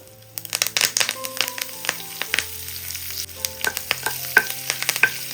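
Dried red chillies, curry leaves and asafoetida tempering in hot oil over low flame for sambar, a crackling sizzle with repeated stirring clinks and scrapes, close and fairly loud.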